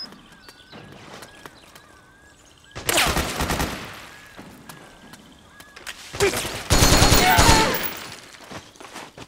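Rapid automatic gunfire erupts in two loud sustained bursts during a firefight in the video game Metal Gear Solid 4, with quieter ambient noise and footsteps between them.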